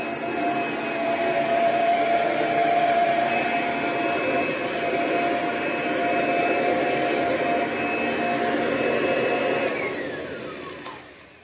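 A Kirby G6 vacuum cleaner runs close by with a steady, loud whooshing roar and a thin whine on top. It holds for about ten seconds, then the pitch slides down as the motor winds off.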